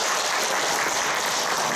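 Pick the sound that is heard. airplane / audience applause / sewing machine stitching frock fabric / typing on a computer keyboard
audience applause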